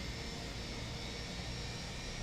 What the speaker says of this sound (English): But engine 1's starting.